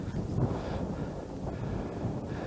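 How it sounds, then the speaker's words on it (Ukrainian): Steady wind rushing and buffeting outdoors at a pond in winter, a constant low roar with gusty rumble and no voices. "Вітер дує"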